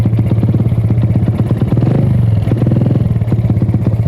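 Motorcycle ridden on a rural route in Indonesia, its mid-pitched engine droning steadily and loudly with a rattling clatter throughout, no talk.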